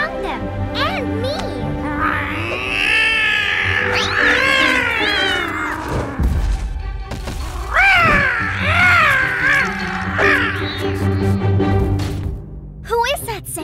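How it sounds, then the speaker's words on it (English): A monster cat in a cartoon yowls and caterwauls in long, rising and falling wails, loud and close, with background music and brief voices around it. "He is a monster cat, and he does not like other kitties"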